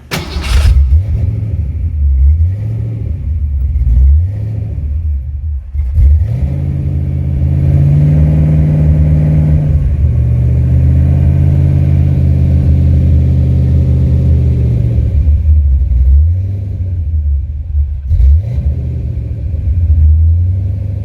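Rebuilt stock-bottom-end Ford 302 small-block V8 with a 375 hp package, cranking and catching, then running at a loud, steady, rough idle with surging revs. No talk.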